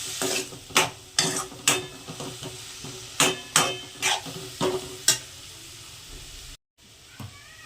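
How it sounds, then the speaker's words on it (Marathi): Green tomatoes sautéing in a pan with a utensil scraping and knocking against the metal in about a dozen sharp strokes over a soft sizzle, close, no talk. "सगळं आता शिजूचं थोडं परतून घ्यायचं सगळं चांगलं"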